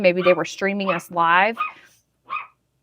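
Puppies bark and yip in short high bursts right beside someone talking, their cries overlapping his voice during a severe thunderstorm broadcast at home.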